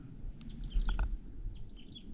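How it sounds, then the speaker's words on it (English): Small birds chirp and tweet outdoors in short, scattered high calls over a low rumble of wind or distant background noise, with no voices. "Well, we did find some birds."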